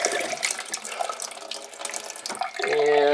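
Pressurized water gushes from a slightly loose faucet aboard a Fisher 30 boat, a close, steady splashing stream that ends with a rising tonal hum from the water system.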